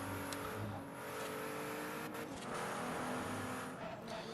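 A Pagani Huayra's engine drones steadily in the racing game Forza Horizon, a continuous loud motor roar with slight shifts in pitch while cruising, with no one talking.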